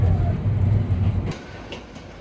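A passenger train on a rail journey to Jamalpur rumbles along the tracks, a loud low drone filling the first second before easing into a quieter, steadier roll with a few faint clicks.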